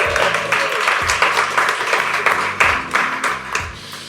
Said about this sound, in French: Vous pouvez peut-être vous manifester d'ailleurs par une petite main d'applaudissement